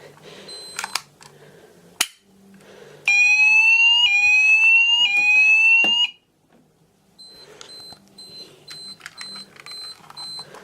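A Notifier fire alarm panel sets off a loud, steady sweeping electronic tone in three rising whoops lasting about three seconds, with quieter intermittent beeping and mechanical clicks before and after.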